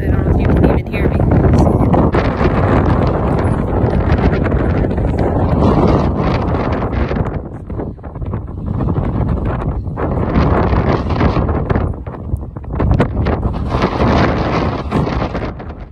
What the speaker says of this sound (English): I just wanted to try to show you how windy it is out here.